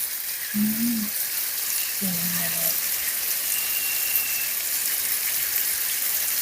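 Pork neck steak fries in a pan with a steady, close broadband sizzle throughout, broken by two short murmured vocal sounds early on.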